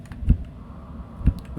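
Two isolated key presses on a half-size computer keyboard, one near the start and another about a second later, quiet and close with a faint room hum between them.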